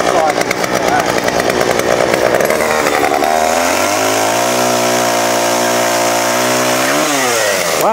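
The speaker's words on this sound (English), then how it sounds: "Boy, that's quiet for a chainsaw." A chainsaw roars loudly and steadily up close, its pitch dropping into a lower, labored drone as it bites in, then rising again near the end.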